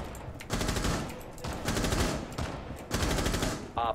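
Bursts of rapid automatic gunfire from a video game objective match with a sniper present, three loud clusters of shots separated by short pauses, close and dense.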